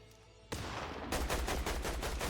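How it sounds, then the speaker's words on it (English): Gunfire in a game, starting abruptly and then turning into a loud, fast rhythmic volley of repeated shots. "Who's shooting at us right now?"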